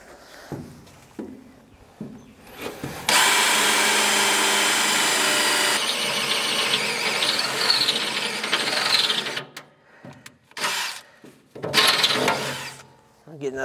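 Cordless drill boring pilot holes while setting up a service truck: one loud sustained whining run of about six seconds, then shorter bursts of drilling and mechanical clatter, close to the microphone with no talk.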